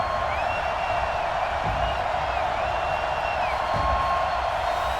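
Stadium crowd at Nissan Stadium in Nashville roaring in a rainy preseason Titans–Patriots game in Madden NFL 20, a steady distant wash of cheering with occasional whoops and whistles throughout.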